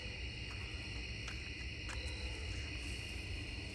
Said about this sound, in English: The crickets or whatever are so loud.